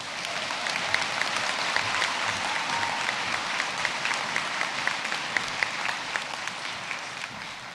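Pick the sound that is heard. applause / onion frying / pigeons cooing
applause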